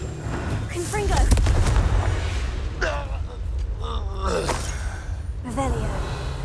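Confringo blasting spell explosions in Hogwarts Legacy, a booming burst near the start followed by fiery crackling and further impacts, with a character's voice shouting over the combat.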